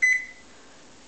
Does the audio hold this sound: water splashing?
no